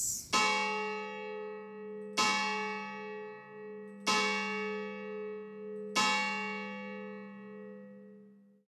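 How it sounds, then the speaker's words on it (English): A church bell tolls four times at slow, even intervals, each loud clang ringing out with a long, humming decay before the next strike, with no other sound around it. "The bell invites me."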